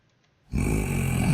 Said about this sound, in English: Oh, he snores.